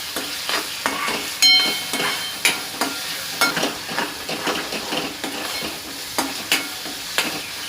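Onion frying in a pan with garlic and salt, cooking toward golden brown for a Malvani lima bean dish, stirred with a utensil; steady sizzle broken by repeated scraping and clinking strokes at an uneven rhythm, close and fairly loud.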